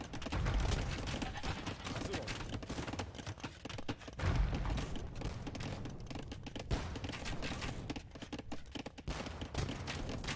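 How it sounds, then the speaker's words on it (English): Real-time strategy battle with Janissary gunpowder troops, crossbowmen and bombard cannons firing, giving dense, continuous volleys of crackling shots and booms that run loud and steady throughout. "He's trying to fight the Janissaries off with crossbows, and I'm not the biggest fan of this, especially when Babaorum's got the bombard cannons"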